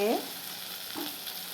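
Potatoes and peas sizzle softly in a frying pan, a faint steady hiss with a brief stirring scrape near the start.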